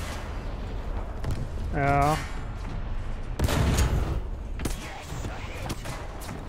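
Enemy gunfire and explosions in War Thunder arcade battles, with scattered booms and bursts of shots under an ongoing roar of battle noise, while someone speaks briefly.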